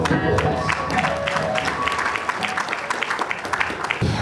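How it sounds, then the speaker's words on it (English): Loud applause from an audience at a book presentation for an All Progressives Congress book honouring a couple's anniversary, close sharp claps with crowd voices and some cheering mixed in throughout. "Shall we give them a round of applause?"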